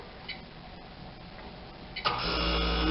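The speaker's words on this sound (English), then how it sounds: "I don't want to talk over the noise of the freeze dryer" A Harvest Right freeze dryer switches on partway through, its motor and compressor settling into a steady, loud hum after a quiet stretch with faint ticking.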